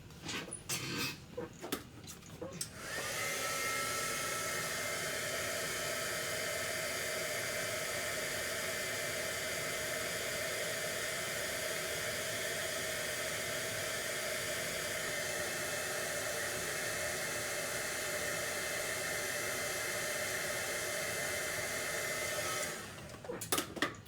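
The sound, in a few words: heat gun for dry embossing a card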